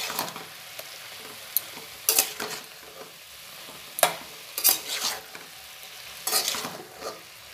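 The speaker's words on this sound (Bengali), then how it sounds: "এবার হালকা করে ভেজে রাখা আলুটা আমি এর সাথে অ্যাড করে দিলাম।" Fried potato and broccoli being stirred in a frying pan, a soft steady sizzle broken by several sharp scraping strokes of the spatula, close and without talk.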